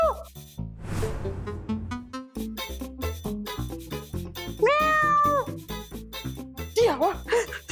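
A domestic cat gives a few clear, drawn-out meows, close and loud, over a busy music track in a Marathi TV drama scene.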